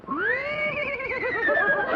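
A man imitates a horse neighing with his voice, making a loud, rising whinny that wavers and trembles in a long quavering call lasting about two seconds.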